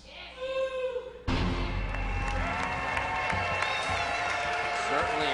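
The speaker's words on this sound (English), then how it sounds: "Now you can cheer for the boss." Wrestling crowd at an FCW event erupts into loud cheering and applause after a brief quiet moment with a voice over a microphone, the roar holding steady and full to the end.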